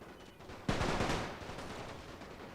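Burst of massed rifle fire in the World War I strategy game The Great War, a sharp crackling volley that bursts in suddenly and then rolls on and fades over the following seconds, with no talk.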